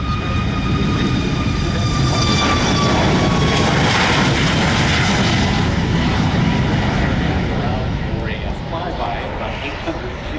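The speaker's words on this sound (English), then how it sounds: "Ladies and gentlemen, on the takeoff roll right now" A Southwest airliner on its takeoff roll at the EAA Oshkosh airshow, a loud continuous engine roar with a rising whine holding steady throughout and spoken commentary over it.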